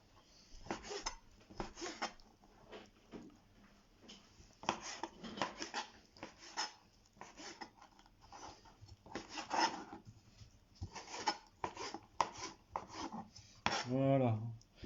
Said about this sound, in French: On va hacher le poisson.